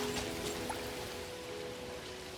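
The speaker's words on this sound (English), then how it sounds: "just the sound of the waves against the rocks" Waves washing against rocks at night in the video game Neverness to Everness, heard as a steady, soft watery hiss with faint trickling and a low tonal hum beneath, continuous and without speech.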